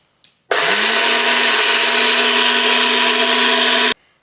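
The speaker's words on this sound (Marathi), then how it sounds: "आणि मिक्सरमध्ये एकदम बारीक पूड तयार करूयात." A mixer grinder grinds roasted spices to a fine powder, whirring loudly and steadily for about three and a half seconds, a sustained motor drone with gritty grinding, starting and stopping abruptly.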